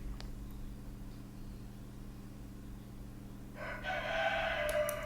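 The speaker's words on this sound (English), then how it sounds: "Shut up, cockerel." A rooster crows from a distance, its call rising in the final second or so over a steady low hum of background noise.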